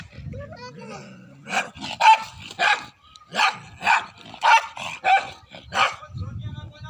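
A dog barks in a rapid, regular string of about a dozen sharp yelps over roughly five seconds, fairly close, with a voice talking underneath at the start.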